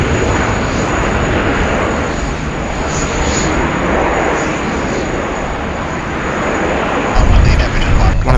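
A Jetstar airliner in bright orange Jaffa Jet livery passes at Sydney Airport, its engines a loud, steady broadband roar throughout, swelling with a gusty rumble near the end.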